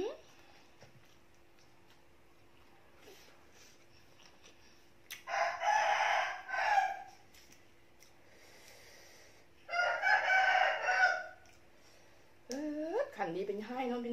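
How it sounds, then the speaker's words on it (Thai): A rooster crows twice at a distance, each long call rising and falling, with quiet gaps between them, before a person starts talking at the end. "เสียงไก่"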